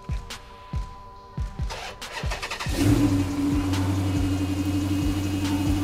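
A 2010 Dodge Charger R/T with a rebuilt 5.7 Hemi V8 cranks in a few rhythmic thumps, then catches and settles into a steady, loud, even idle.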